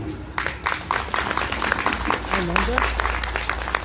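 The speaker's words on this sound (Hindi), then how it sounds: "जोरदार ताली बजा के सत्संग का स्वागत कीजिए" Applause from a crowd at a religious satsang gathering, steady rapid clapping that builds and holds for several seconds, with faint voices mixed in.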